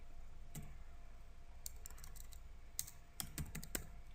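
Scattered clicks on a computer keyboard as a domain name is typed, in short bursts of keystrokes with pauses between, close and crisp over faint room hiss.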